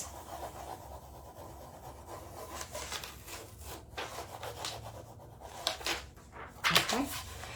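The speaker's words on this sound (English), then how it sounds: "I'm gonna grab my burnishing tool" A burnishing tool rubs a rub-on transfer onto a wooden seasonal sign, short scraping strokes in an uneven rhythm, fairly faint and close, with a person talking over it.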